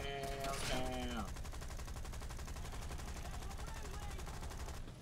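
Rapid gunfire from aircraft guns in the combat game War Thunder, a continuous burst of fast repeated shots running the whole time, fairly quiet, with a brief tonal game sound at the start.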